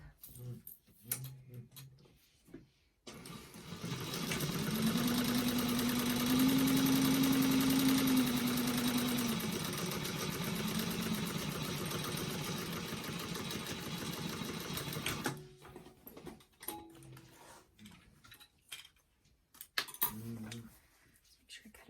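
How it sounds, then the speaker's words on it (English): A sewing machine runs steadily for about twelve seconds, top stitching along the upper seam of a bag with a narrow eighth-inch seam allowance, with quieter handling noises before and after the run. "I'm going to top stitch with an 1/8 of an inch seam allowance along the top"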